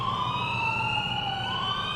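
Several emergency vehicle sirens wail together along a street, overlapping tones sliding slowly downward over a constant low traffic rumble, fairly loud and steady, with no one talking.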